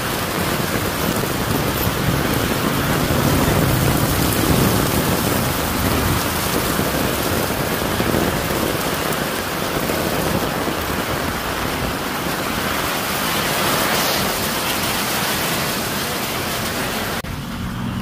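Steady, heavy rain pours down continuously, a dense hiss of drops on surfaces with no voices, holding level throughout.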